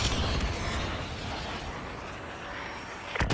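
A tank blown up during a Call of Duty campaign mission produces a dense, sustained rumbling explosion that fills the whole stretch at steady loudness, ending with a sharp crack near the close.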